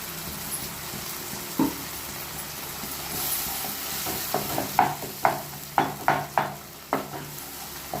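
Onions and ground tomato sautéing in a pan for a village-style sankara fish curry, a soft sizzle under a run of crisp spoon scrapes and knocks that grow busier and more rhythmic toward the end, close and without speech.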